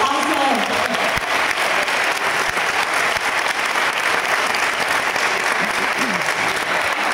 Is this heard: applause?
yes